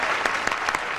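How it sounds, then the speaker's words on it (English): Studio audience clapping on a TV game show, a brief dense burst of applause, loud and close, with no voices over it. "Did you ever have applause before on television?"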